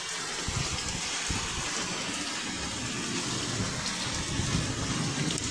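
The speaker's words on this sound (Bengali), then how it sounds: "তোমাদেরকে দেখিয়ে দিই কীরকম বৃষ্টিটা হচ্ছে" Heavy morning rain with wind, falling outside a window in a thick, unbroken roar of drops hitting surfaces, loud and near, with occasional heavier splashes and no talking.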